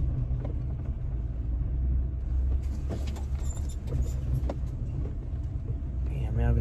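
A truck engine idling after an oil change, a low, steady rumble close by with light metallic clinks and rattles, while someone talks briefly over it.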